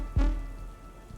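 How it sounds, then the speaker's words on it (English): A heavy rain and thunder sound effect starts with a sharp, deep thump and then settles into a softer, continuous rainy wash. "the rain and thunder had intensified to abnormal levels"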